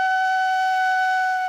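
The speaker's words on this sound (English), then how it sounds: "when you get clear and good sound from your flute" A flute blown across the mouth hole gives a clear, steady, sustained tone, loud and close, held alone without a break or wavering.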